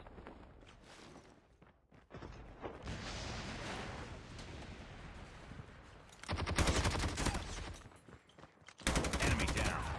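Gunfire in the video game Call of Duty Mobile: scattered shots early, then loud rapid automatic bursts later, close and punchy, with quieter game ambience between them.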